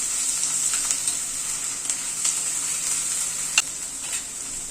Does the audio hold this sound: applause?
no